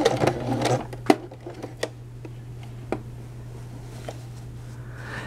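A sewing machine stitches a woman's button-down shirt collar. Its motor runs as a steady hum through the whole clip, with a few sharp ticks and clicks scattered over it. It is close and moderately loud, and nobody speaks.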